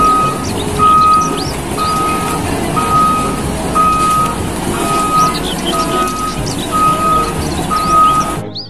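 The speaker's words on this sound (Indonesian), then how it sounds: "lihat di sini ada mobil truk molen besar" A toy concrete mixer truck reverses with an electronic backup beeper. Steady high beeps repeat about once per second over a low rumbling hum and faint background chirps, with no talking.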